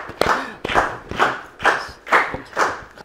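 An audience at a pool tournament award ceremony in Ethiopia claps in a steady rhythm, with about six evenly spaced, close and fairly loud beats that carry on with no talk.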